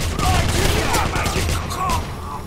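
Sustained volleys of gunfire in the video game Wolfenstein, loud and dense shots rattling steadily through the whole moment, with a few brighter cracks standing out.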